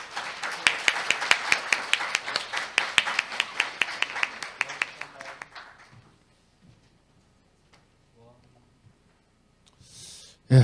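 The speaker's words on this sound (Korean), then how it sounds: "여러분 환영의 박수 부탁드립니다" Conference audience claps to welcome a speaker to the stage, a run of sharp hand claps that fades out after about six seconds, followed by quiet room tone and a brief voice at the end.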